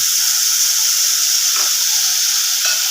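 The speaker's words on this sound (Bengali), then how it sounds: "তেলটা গরমই আছে তো এর মধ্যে আমি এখন কাজু বাদামের যে পেস্টটা আমি বানিয়েছিলাম সেটা আমি এখানে" Cashew nut paste sizzling in hot oil in a pan, a steady loud hiss with no break, flaring briefly as it is stirred.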